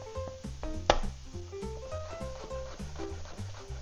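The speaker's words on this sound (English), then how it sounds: "Smash it with the back of a knife and give it a rough chop." Garlic cloves being roughly chopped with a knife on a cutting board, a quick, regular run of close, crisp knife taps.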